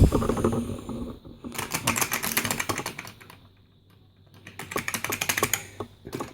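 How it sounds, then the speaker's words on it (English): Clicky computer keyboard being typed on in a burst of rapid, close key clicks, a brief pause, then another flurry of sharp tapping, with no one speaking. "has a clicky keyboard which is apparently not working"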